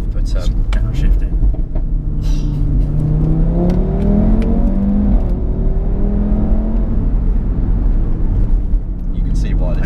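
A used Audi RS3 engine revs during a kick-down and downshift, the rising whine and boosted roar sweeping up through the gears inside the cabin, loud and continuous, with people talking over it.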